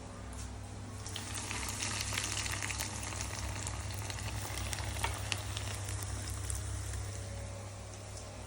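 Bread pockets filled for shawarma fry in hot oil with a dense, continuous bubbling sizzle, close and steady for several seconds with faint stirring, no voices present.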